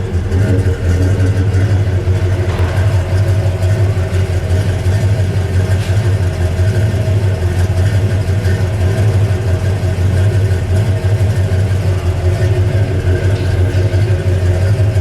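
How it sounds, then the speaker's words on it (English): A 1963 Plymouth Fury convertible's V8 engine idles steadily up close with a deep, lumpy rumble, unchanging throughout, with no talking. "Listen to that idle."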